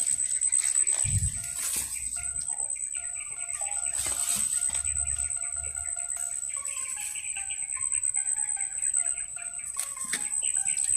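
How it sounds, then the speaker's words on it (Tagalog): In a shooter video game, ambient birds chirp and call in scattered short phrases over a steady, thin high whine like insects. The scene is otherwise quiet, and no one talks. "yung mga ibon lang yung naririnig natin."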